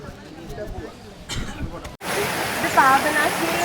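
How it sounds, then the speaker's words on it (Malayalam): Spring water rushes and splashes at a waterfall near a temple pond in Wayanad, a steady loud hiss that swells sharply after a brief lull, with a voice speaking over the first part. "ഒഴുകി വരുന്ന വെള്ളമാണ് കേട്ടോ"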